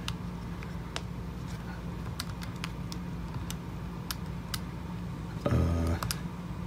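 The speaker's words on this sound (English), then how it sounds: "if I keep this up, I'll get much faster at typing these things" Keys on a TI-84 Plus CE Python graphing calculator keypad are pressed one at a time while code is entered, giving sparse, quiet, crisp clicks at irregular intervals, with a brief louder rustle near the end.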